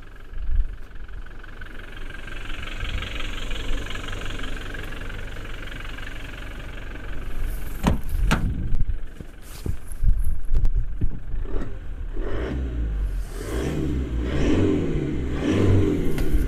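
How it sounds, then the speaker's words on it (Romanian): A Toyota Hilux Invincible engine with the hood open, idling with a somewhat noisy, vibrating rumble, then revved several times in loud surges, heard up close with no talking. "E un motor oarecum gălăgios cu capota deschisă."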